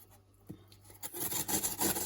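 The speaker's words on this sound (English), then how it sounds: "I'm going to start off with the ginger. Basically I'm just going to grate." Fresh ginger rubbed against a grater in fast, close, rasping scrapes that start after a second of near quiet and continue as a rough, steady texture.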